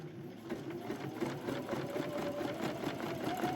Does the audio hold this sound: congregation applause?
no